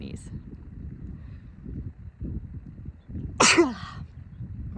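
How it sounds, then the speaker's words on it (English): A single loud, close sneeze breaks in over quiet talk in a soft indoor space. "I'm gonna sneeze."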